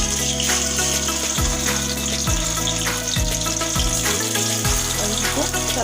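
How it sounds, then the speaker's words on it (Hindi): Soya chaap sizzling as it is fried in hot oil in a kadhai, a steady, loud bubbling hiss throughout with low tonal hum underneath. "हमारा तेल गर्म हो चुका है तो सबसे पहले हम सोया चाप को इसमें डालेंगे।"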